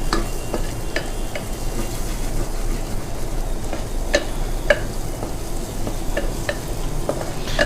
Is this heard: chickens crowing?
no